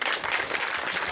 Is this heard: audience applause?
yes